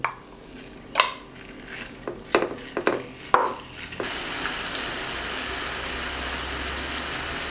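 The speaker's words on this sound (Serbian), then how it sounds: "Kada se ulje ugrejalo, dodajem meso i pržit ću ga dok ne uvati koricu sa svih strana." Meat dropped into hot oil in a pan, with a few sharp clatters and stirring knocks before a steady broadband sizzle takes over and holds evenly to the end.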